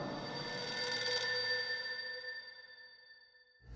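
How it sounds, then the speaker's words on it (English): A telephone bell rings with a bright metallic trill, then decays into a fading ring, followed by a soft thump at the end. "And then the phone rang."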